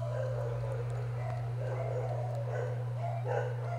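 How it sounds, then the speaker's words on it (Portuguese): Dog barking in short yaps at a moderate distance, faint under a steady electrical hum, with a few repeated bursts across the few seconds. "Eu já vou mandar esse cachorro calar a boca de novo, não é possível."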